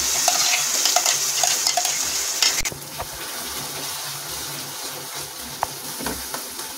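Masala and deggi mirch chili powder fry in hot oil for malai kofta gravy, with a loud, hissing sizzle at first that settles into a softer crackle, broken by stirring scrapes and a few clinks of a spoon against the pan.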